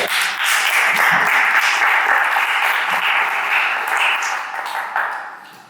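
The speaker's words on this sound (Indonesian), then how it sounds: "Oke, tepuk tangan dulu untuk saya." Sustained applause from an audience at a school seminar on violent online games and students' language, a dense steady wash of many hands clapping that tapers slightly toward the end.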